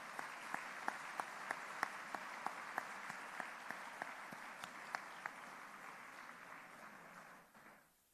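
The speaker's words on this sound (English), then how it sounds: "a round of applause for all the honorable mentions" Sustained audience applause at an international commercial arbitration moot final round, a dense steady wash of many hands with a few sharper claps standing out, fading away near the end.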